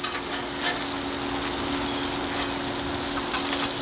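Pulled pork and cheese quesadillas fry in a hot pan, giving off a loud, steady, close sizzle that continues without a break.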